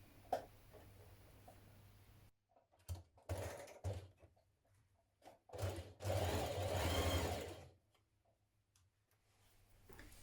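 A sewing machine stitches a dress seam in short, quiet bursts of whirring between pauses, faint and close, with no talking.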